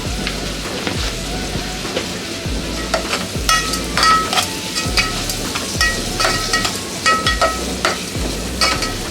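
Onions fry with curry leaves and a pinch of salt in a pan, sizzling steadily while a spatula scrapes and stirs in regular strokes, loud and close, with no talking.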